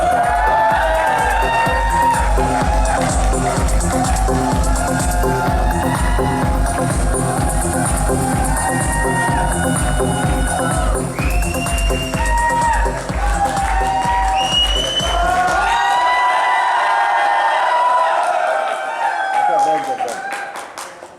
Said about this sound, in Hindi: तो जोरदार तालियां होनी चाहिए अमित के लिए।